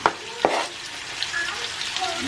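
Chicken pieces sizzle in a hot pan, a bright crackling hiss with a couple of sharp clatters near the start as the meat goes in and gets moved.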